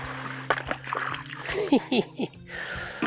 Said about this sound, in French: J'arrose tout autour pour que la terre soit bien tassée